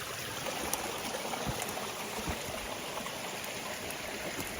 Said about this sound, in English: I'm hiking this little creek.